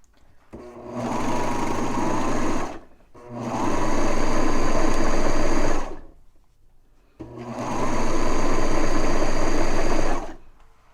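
A serger sewing machine stitches a seam in knit fabric, its motor whirring loud and steady in three long runs with short pauses between them.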